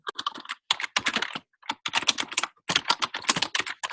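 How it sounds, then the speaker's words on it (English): Rapid, forceful typing on a computer keyboard in bursts of clattering keystrokes separated by short pauses, close and fairly loud with no talking. "Who was angrily typing?"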